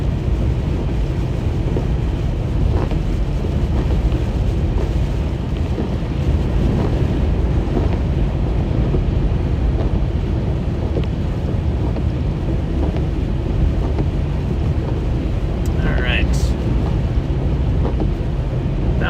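Strong wind roars steadily across the microphone during a storm chase beneath a supercell in the Midwest. It is a loud, continuous rumble with no break, and a brief faint whistle rises near the end.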